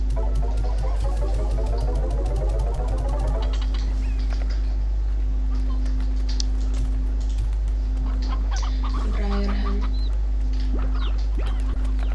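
Chicken clucking in a farm video game, with a rapid run of clucks in the first few seconds, then sparser sounds over a steady low background hum and game noise. No one speaks.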